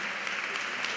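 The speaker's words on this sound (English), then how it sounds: "Yes, that's a clap, y'all." Audience applause at a city AI summit in North Miami, a dense, steady wash of many hands clapping through the whole moment, fairly loud and without talk.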